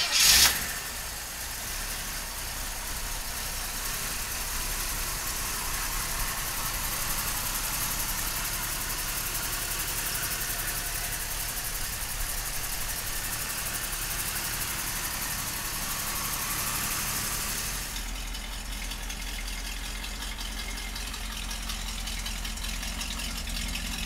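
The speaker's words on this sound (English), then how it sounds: "let's fire this Camaro up" A 1967 Chevrolet Camaro engine cranks and catches with a brief loud burst, then settles into a steady rumbling idle that changes tone near the end.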